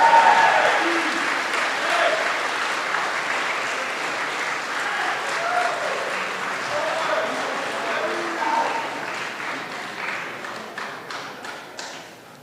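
Student Leadership Awards audience claps for honorees at the 2023 ceremony, a full, close round of applause that holds steady before thinning into scattered claps near the end; a few voices murmur underneath.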